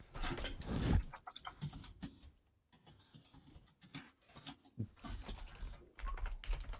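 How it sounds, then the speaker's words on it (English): Typing on a computer keyboard comes through as quick, irregular bursts of clicky keystrokes, fairly close, with a brief lull in the middle before the tapping resumes. "typing's hard, I guess"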